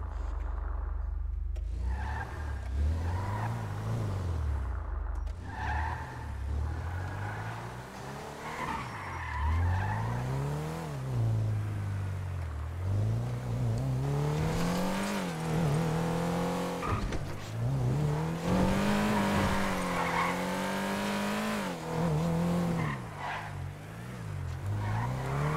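Car driving and skidding in a video game, with an engine revving up and down and long tire squeals sliding in waves across the clip, loud and close, no talk.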